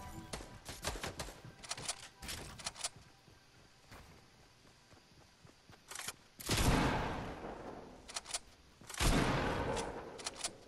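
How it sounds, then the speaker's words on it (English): Bursts of gunfire in a Fortnite squad match, scattered sharp cracks and rapid volleys rising to two louder, longer bursts, at moderate distance with no talk. "Where are them shots coming from?"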